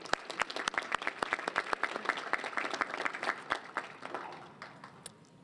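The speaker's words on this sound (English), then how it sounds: "let's give another round of applause to Dr." Audience at a Rural Life Conference luncheon applauds a speaker, sharp distinct claps forming a lively round that thins out and fades toward the end.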